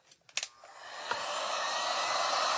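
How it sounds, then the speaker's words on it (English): A few short knocks and handling sounds come first, then a hair dryer switches on and runs in a steady, loud whoosh, drying paint on a hand-painted watering can. "now I'm going to have to do the dryer a little bit"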